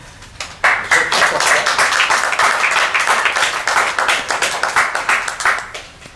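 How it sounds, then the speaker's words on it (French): An indoor audience at a partnership launch event in Paris claps loudly and steadily for several seconds, the applause starting abruptly and then thinning toward the end. "on peut l'applaudir"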